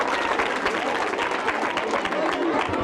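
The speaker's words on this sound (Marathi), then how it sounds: "सगळ्यांनी जोरदार टाळ्या वाजवा बरं." Steady audience applause at a school quiz session after a correct answer, a continuous, fairly loud patter of many hands clapping with some crowd noise mixed in.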